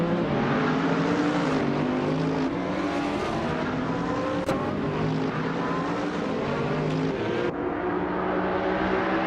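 Race cars in a video game race launch off the starting line, including a 2012 Audi R8 Spyder GT against newer hypercars: loud layered engine whine rising and shifting through gears, with a continuous roar throughout.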